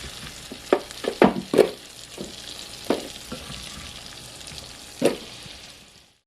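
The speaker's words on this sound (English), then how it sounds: "Toss that fruit of the new into the saucepan, coating them all with that buttery, spicy sauce." Apples are stirred into a buttery, spicy sauce in a saucepan for an apple cobbler. A few soft, close stirring strokes and wet clacks stand out over a quiet sizzle, then fade near the end. No talking.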